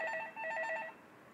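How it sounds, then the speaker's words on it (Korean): A telephone rings during an online social studies lesson, with a repeating electronic warble in two short bursts that stops after about a second, fairly loud and alone, with no talk. "잠깐 전화가 왔어요"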